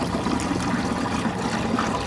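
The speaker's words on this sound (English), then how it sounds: "So the water comes out, and we pour that water into these jugs." Water rushes steadily into jugs at a greenhouse heated with used cooking oil, a loud continuous gushing pour with no pauses.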